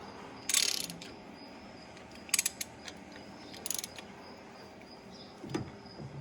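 A ratchet snugs down the head bolts on an Allis-Chalmers 7060 engine, giving a few short, quiet bursts of rapid clicking separated by pauses in an otherwise still room.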